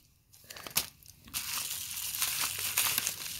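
A cardboard package of RC car parts for a Losi 5 is pulled open, with crinkling, crushing and tearing sounds up close, rising into a continuous rustle.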